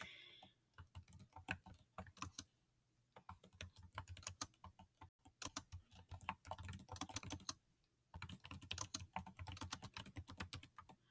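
Rapid typing on a computer keyboard, dense clattering keystrokes in bursts with short pauses around three and eight seconds, close and fairly quiet, no voices.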